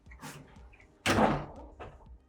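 Old wooden pocket doors sliding in an 1880s lumber baron's historic house, a soft rumble followed by a louder heavy thudding roll and a final knock, close by in a quiet room.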